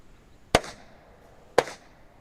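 Two sharp, loud pistol shots from a 25-meter standard pistol ring out about a second apart, each with a short echoing tail.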